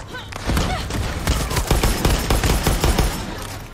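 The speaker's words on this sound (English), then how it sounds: "Now we're just pistol popping." Pistol shots in the video game Far Cry 6 crack in a rapid, uneven volley, loud and close, with other gunfire and a voice faintly underneath.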